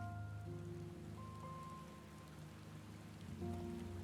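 Steady rain in the video game Final Fantasy XIV, a continuous hiss of falling drops over sustained tonal game music, moderately loud throughout with no talk.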